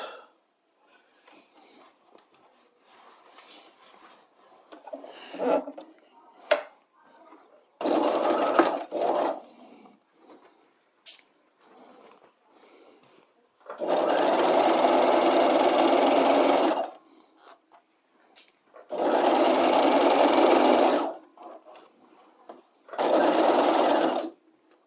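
A sewing machine stitches an armhole facing, with several short starts early on, then three long, steady runs of several seconds each separated by quiet pauses and light handling noise.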